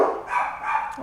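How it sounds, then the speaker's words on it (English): Dogs barking indoors at home, a short yapping burst of one or two barks, fairly close and fairly loud. "the dogs are barking"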